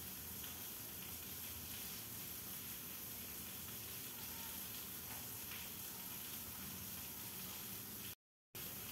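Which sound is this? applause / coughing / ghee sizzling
ghee sizzling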